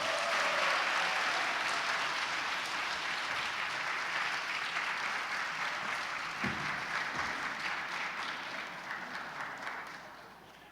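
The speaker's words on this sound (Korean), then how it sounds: "박수!" An audience claps in a church during a worship service, the applause loud and dense at first and then slowly tapering off. No one speaks over it.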